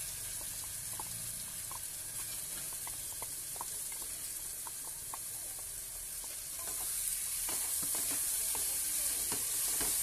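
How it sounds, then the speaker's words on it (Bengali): Spice paste being stirred and fried together with fried potatoes in a pan, a steady sizzle with scattered scraping stir clicks, the frying growing a little louder toward the end. "এবার ভালো করে নেড়ে চেড়ে ভালো করে মশলাটাকে কষিয়ে নেব।"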